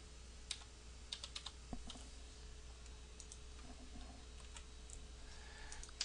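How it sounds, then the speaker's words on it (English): Rapid keystrokes on a computer keyboard tap out a login, quiet and close, in short irregular bursts of clicks with brief pauses between. "now we type in our username and password"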